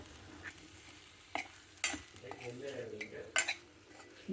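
Fried mutton pieces being stirred into mashed tomato in a pot, a few faint, close scrapes and clinks of a spoon against metal over a soft sizzle, spaced irregularly.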